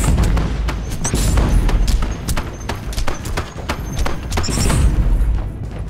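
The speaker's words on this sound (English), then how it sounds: "Throw a grenade" Explosions and combat in the Warhammer 40K Inquisitor: Martyr video game, with repeated heavy booms and thuds over a dense, continuous battle din, loud and close throughout.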